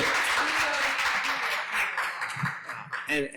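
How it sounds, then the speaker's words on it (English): Steady applause from a crowd, a dense wash of clapping that holds for a few seconds with a little murmuring underneath. "you also need to give a round of applause"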